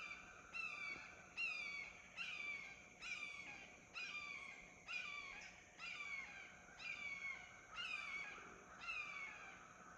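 Hawks call as they fly overhead, giving a long series of about ten evenly spaced, descending harsh cries, faint and distant, with no talking.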